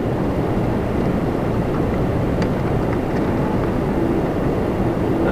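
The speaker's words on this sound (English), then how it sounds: "next we're going to get Jazz 463 coming in from LaGuardia on an Embraer" A Jazz Embraer 175 airliner from LaGuardia arrives at Toronto Pearson, its jet roar a steady, loud, broad rumble that holds throughout.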